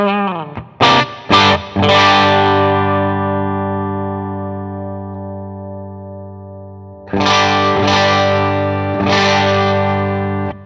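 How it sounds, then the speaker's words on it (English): Electric guitar played through a Headrush pedalboard with speaker breakup emulation: a few picked notes, then a sustained distorted chord ringing and decaying, followed by more strummed chords with gritty, compressed breakup. "Yeah, I definitely feel the sound just kind of squishing down a little bit as the breakup gets turned up"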